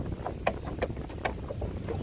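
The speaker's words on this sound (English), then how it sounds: "Very windy." Strong wind blows across open water, rumbling and buffeting the microphone in a steady low roar, broken by a few sharp clicks and knocks.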